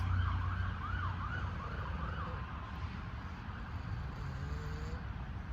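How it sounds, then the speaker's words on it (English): A wailing emergency siren rises and falls over steady traffic rumble, fairly distant, with low engine noise throughout. "Sirens."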